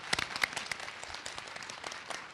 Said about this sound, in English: One more round of applause for Kathy.